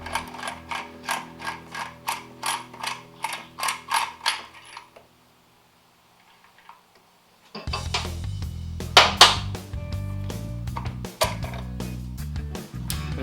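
Ratchet clicks in a quick, even series as a bolt is loosened from a 2004–2014 Harley-Davidson Sportster headlight. A near-silent pause follows, then louder metallic clatter and handling noise.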